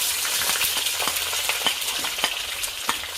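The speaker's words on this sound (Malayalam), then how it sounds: "പച്ചമുളകും കൂടെ ഇങ്ങോട്ട് ഇട്ട് ഇതിനെ ഒന്ന് വഴറ്റണം" Shallots sauté in hot oil in a traditional clay pot for a Kottayam-style catfish head curry, a close, steady sizzle broken by light scraping stirs with a coconut-shell ladle.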